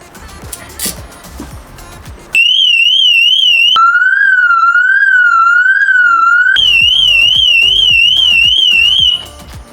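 A car alarm goes off on an R56 JCW Mini, very loud and close: rapid warbling electronic tones that jump between pitches in blocks of a few seconds, sounding continuously for about seven seconds before cutting off.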